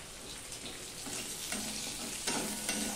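Black cumin, chillies and onion frying in hot oil for a Bengali tengra fish curry, a steady close sizzle with soft stirring scrapes and no talking.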